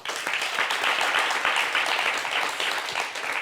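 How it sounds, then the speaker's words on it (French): A studio audience at a fashion talk show claps steadily and fairly loudly throughout a short stretch, with no voices over the applause. "Applaudissez pour lui"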